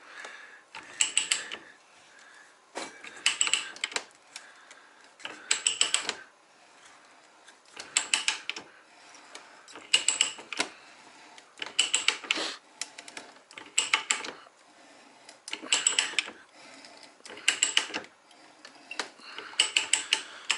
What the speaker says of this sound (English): You flip this around and it ratchets.